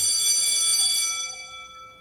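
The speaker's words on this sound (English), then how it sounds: "The class bell rings, disrupting the moment" A school class bell rings in a KFC-themed dating game, a bright metallic ringing that holds for about a second and then decays away into quiet.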